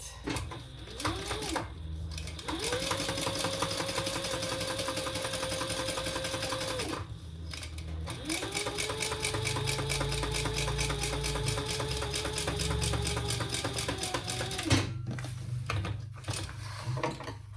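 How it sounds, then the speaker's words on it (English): A sewing machine runs in long continuous bursts while stitching the zipper side of a crossbody bag, with a steady rapid mechanical whir and hum. Brief pauses break the stitching into three runs, and the machine sounds close and dominant. "So now let's sew that other side flat."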